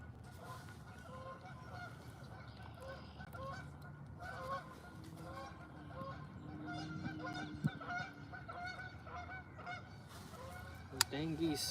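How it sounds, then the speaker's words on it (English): Geese honk repeatedly at a moderate distance beside water during a fishing outing, their calls layered over steady outdoor background noise, with a couple of sharper honks near the end. "Those dang geese"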